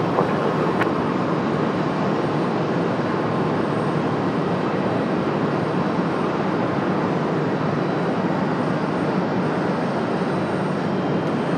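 An airplane at Raleigh Durham airport roars in a loud, continuous broadband rumble that holds steady for the whole stretch.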